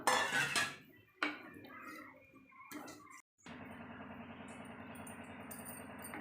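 Tamarind water is poured into a pan of sundakkai (turkey berry) gravy. It opens with sharp clinks and clatter of a vessel, then a steady, close rush of liquid that goes on.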